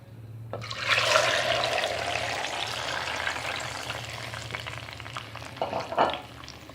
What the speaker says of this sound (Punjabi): ਹੁਣ ਮੈਂ ਆਇਲ ਰੱਖਿਆ ਹੋਇਆ ਹੈ ਗਰਮ ਕਰਨ ਵਾਸਤੇ ਤੇ ਇਹਦੇ ਵਿੱਚ ਪਾ ਕੇ ਮੈਂ ਭੁੰਨ ਲਵਾਂਗੀ।